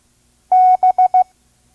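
A slow five-words-per-minute Morse B from a vintage ARRL course: one long dah, then three quick dits in a clear, even tone, loud and isolated against silence.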